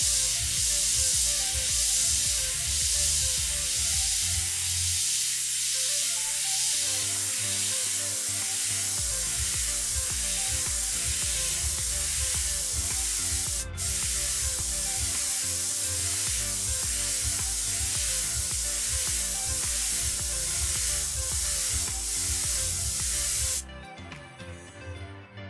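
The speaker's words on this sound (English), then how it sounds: "I'm doing is holding my airbrush at an angle here" Steady airbrush hiss spraying paint onto a monochrome model canal boat, continuous and close with faint pulsing, cutting off near the end to leave quieter room sound.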